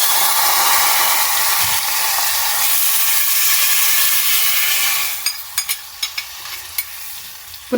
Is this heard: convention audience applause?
no